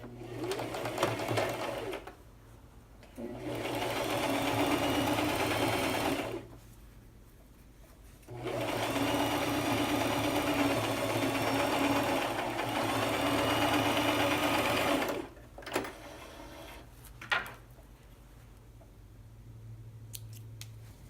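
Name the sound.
sewing machine stitching a seam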